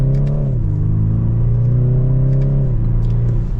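A 2024 BMW 430i M-Sport coupe's four-cylinder engine hums steadily from inside the cabin as the car pulls away, the pitch shifting as it accelerates and changes gear.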